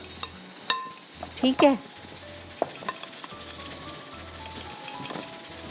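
Masala with coriander is stirred and mixed in a hot pan for mutton daal, with soft frying sizzle and scraping stirs under a few short spoken words and faint background tones.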